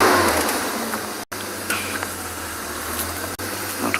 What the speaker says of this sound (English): Not quite sure why this car needed to make a loud noise like that.